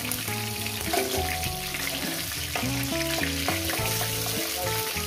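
Rohu fish heads frying in hot oil, a steady close sizzle and crackle running throughout with no talk, while soft music plays underneath.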